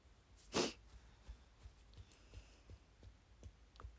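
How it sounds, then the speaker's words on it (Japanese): One sharp sneeze bursts out near the start, then only faint background rustle and soft thumps in a quiet room. "今日一日中ずっとくしゃみ止まらんみたいな"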